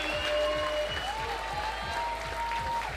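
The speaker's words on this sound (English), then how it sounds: "you can hear the people screaming so loud" Loud crowd screaming and cheering at an outdoor bouldering competition finals in Graz, a steady roar of applause and shouts with whistles rising over it, filling the whole moment.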